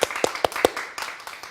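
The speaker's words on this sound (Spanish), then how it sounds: "Un aplauso para el Rey de Reyes." A few distinct, spaced hand claps at a Catholic religious program, fairly close and loud in a short uneven burst before quieting.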